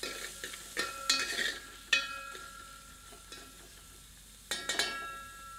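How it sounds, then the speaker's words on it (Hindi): Onion fried over medium heat for Pahadi bhatt ki dal, stirred in the pan with a utensil: soft sizzling under intermittent scraping stirs in short bursts, fairly quiet and close. "तत्पश्चात प्याज सम्मिलित करते हैं। इसे मध्यम आंच पर तब तक भूनते हैं जब तक कि प्याज थोड़ी सी पारदर्शी नहीं दिखने"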